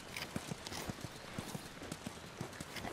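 Horse hooves clip-clop in a steady, moderately quiet rhythm in The Last of Us, with a faint whinny possible beneath the steps.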